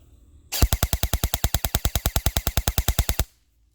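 An EMG Helios airsoft gun fires a fast, steady full-auto burst of about twenty-five evenly spaced sharp cracks lasting nearly three seconds, loud and close, with near silence before and after.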